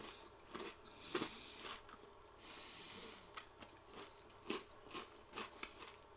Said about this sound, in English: that's why I'm crunching on crackers